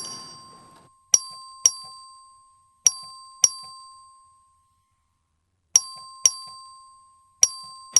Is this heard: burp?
no